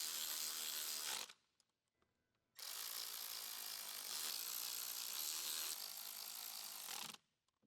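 An electric ratchet with a T30 bit on a long extension tightens the fuel rail retaining bolts on a 2012–2017 Jeep Wrangler JK, giving two loud, close bursts of buzzing whir separated by a short quiet pause.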